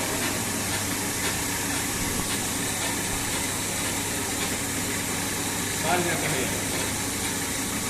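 A Pelton turbine hydro generator runs under load on a test rig, giving a loud, steady rush of water-jet hiss over a constant low mechanical hum with no breaks.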